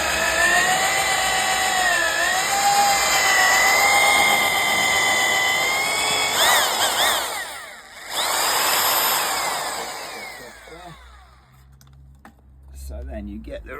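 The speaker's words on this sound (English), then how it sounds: "get yourself a big SDS paddle drill, pin that with your feet and slowly work that in" A big SDS paddle drill whirs steadily as it mixes pond sealant in a tub, its motor pitch wavering under load before stopping briefly and starting again, with a voice talking over it.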